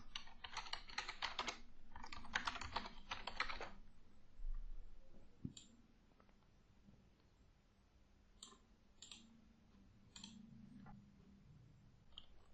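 Quick bursts of typing on a computer keyboard, close and quiet, as a table title is entered in a Looker Studio dashboard, followed by a pause and a few scattered single clicks.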